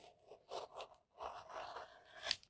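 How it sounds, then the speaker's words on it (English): A rotary cutter rolls through fabric for an apron in soft, close scraping strokes, several short passes with brief gaps, quiet and without talk. "And then I'm just going to use my rotary cutter and"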